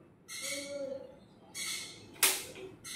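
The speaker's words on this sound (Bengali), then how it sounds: "পাখিগুলো ডাকছে, বাচ্চাগুলো" Birds give shrill, squawking calls in three or four separate bursts, close by, with quiet pauses between them.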